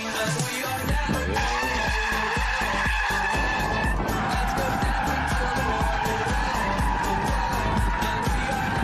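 BMW i4 M50 electric car drifting sideways, tires squealing and skidding continuously at close range with a steady roar throughout.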